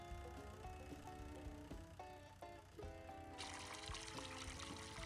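Water pouring in the farming video game Farming Simulator 19, a steady trickling flow over game music with a hissy rush entering partway through, continuous and moderately loud.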